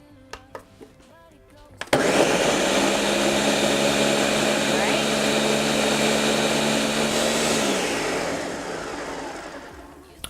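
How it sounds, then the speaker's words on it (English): A Ninja blender blending a blueberry spinach smoothie roars steadily for about eight seconds with a whirring, grinding motor whine, then winds down; a few faint clicks come before it starts. "I use a Ninja blender because it blends up all of the ingredients just perfectly"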